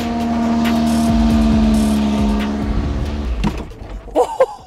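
A car engine being restarted during a brake test, with a steady running drone and low rumbling revs that cut out partway, followed by a few brief clanks and knocks close by.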